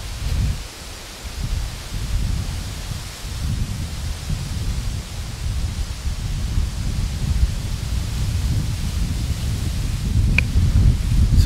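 Strong wind roars steadily outdoors in Maine near wind turbines, a loud, continuous low rumble of gusts buffeting the microphone, with no voices heard.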